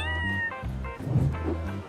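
A cartoon cat meows a few times in quick, close, high-pitched cries with no speech over them.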